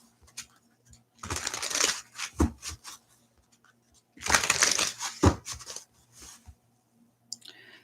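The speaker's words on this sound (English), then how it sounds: "Who are we shuffling for next?" Tarot cards are shuffled by hand in two long rustling, riffling bursts separated by quiet pauses, with scattered taps and soft card handling between them, close up and without speech.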